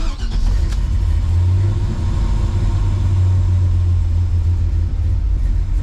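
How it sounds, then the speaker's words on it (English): A car engine turns over and settles into a steady idle after a dual battery swap and oil change, with a loud, close, continuous low rumble and a brief rev near the start. "So we'll give this thing a start up."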